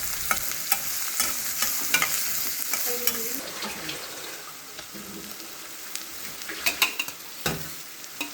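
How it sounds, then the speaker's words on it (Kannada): Chillies and onion frying for a beans palya, with a soft steady sizzle and hiss broken by sharp scraping and stirring clicks of a spoon in the pan, close and moderately loud, with no talk. "ಮೆಣಸಿನ್ಕಾಯಿ, ಈರುಳ್ಳಿ ಎಲ್ಲ ಹಾಕ್ಕೊಂಡು ಫ್ರೈ ಮಾಡಿಕೊಂಡು ಪಲ್ಯ ರೆಡಿ ಮಾಡ್ಕೊಳ್ಳೋಣ"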